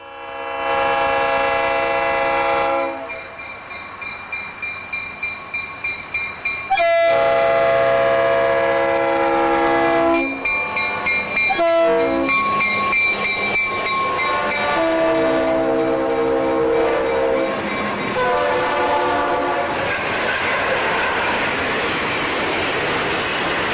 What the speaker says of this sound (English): number 105 charges by at 12:33 p.m.